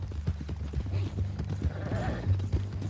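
A horse's hooves clip-clop steadily at a walking pace in Red Dead Redemption 2, with a prisoner tied up on horseback being taken to Saint Denis. The close, rhythmic hoofbeats run under low game ambience and speech.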